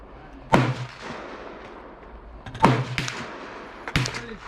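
Loud, sharp shots ring out three times at irregular intervals, each a sudden crack with a trailing echo across an open outdoor setting, over a steady low background rumble.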